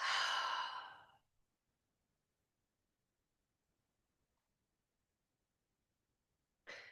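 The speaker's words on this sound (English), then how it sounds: "Deep breath." A single deep, audible exhale during a breath-work yoga session fades out over about a second. Near silence follows, and a second breath begins just at the end.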